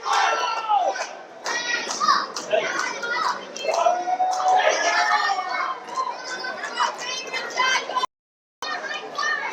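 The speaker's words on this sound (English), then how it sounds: "Jackal's got this crowd wrapped around his finger." Fans at a live CCW wrestling event in Port St. Lucie, Florida cheer and shout loudly as a crowd, with excited voices and chants rising throughout before a brief drop-out near the end.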